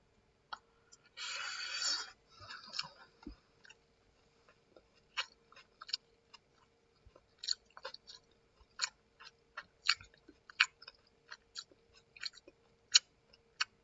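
Soft, close chewing of a bite of convenience store food, with a brief crinkle of packaging at the start and then a run of small, irregular crunchy bites.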